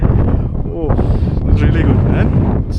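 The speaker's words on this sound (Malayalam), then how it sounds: "കാറ്റാണ് അതിഭയങ്കരമായിട്ടുള്ള കാറ്റ്" Very strong wind roars across snowy mountains, a loud continuous low rumble buffeting the microphone throughout, with a voice heard briefly under it.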